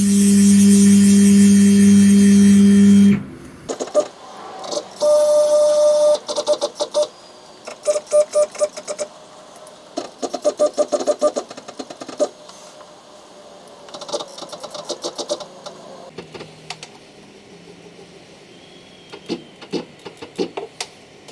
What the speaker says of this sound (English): So I'm using my pendant here to control the CNC mill.